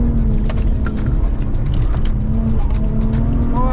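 A loud race car engine drones steadily near at hand while cornering on slippery bends, with squealing tyres whining over the engine throughout.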